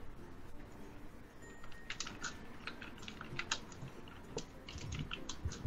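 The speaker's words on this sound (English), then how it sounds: "Tippity typing." Typing on a computer keyboard, bursts of quick light clicking keystrokes at close range, irregular in rhythm over a low background hum, with no talk.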